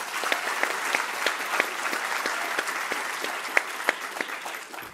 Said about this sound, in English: One more round of applause for Soledad and Bob Hurst, the underwriters